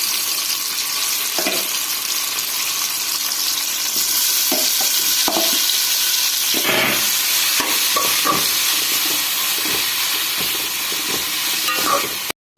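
Chopped jackfruit sizzles in ghee in a heavy pot, giving a loud, steady frying hiss that lasts throughout, close up, with occasional stirring knocks and scrapes and no talking.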